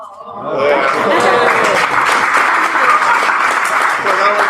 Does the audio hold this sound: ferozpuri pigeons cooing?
no